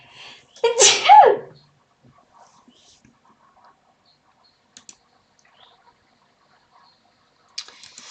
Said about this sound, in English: Bear with me, I'm going to sneeze.